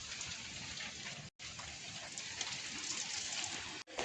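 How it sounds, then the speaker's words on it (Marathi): Cool monsoon rain falls outside near a farm during rice planting, a steady broad hiss of drops that breaks off briefly twice, with no voices. "बाहेर मस्त थंड पाऊस पडतोय"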